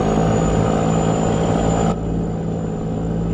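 A Western Star truck engine in American Truck Simulator drones steadily with a low mid-range hum and a thin high whine, dropping slightly in level partway through.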